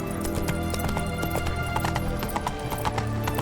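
The horse Roach galloping in the video game The Witcher 3: rapid, rhythmic hoof clip-clops over a dense, loud game soundscape, with a brief whinny-like tone and no clear speech.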